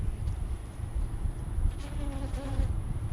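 Honeybees buzz faintly around an open beehive during an inspection, a thin hum rising briefly over steady low rumble and handling noise, close by.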